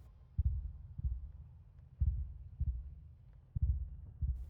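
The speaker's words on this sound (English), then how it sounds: "And I can hear heartbeat." A heartbeat in the video game Scarlet Hollow thumps low and muffled in regular double beats, about four pairs, fairly quiet and alone.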